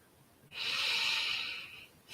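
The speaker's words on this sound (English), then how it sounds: "breathing it in and out." A long, slow breath drawn in and released during a guided meditation, a steady soft airy rush lasting over a second, close and alone with no talking.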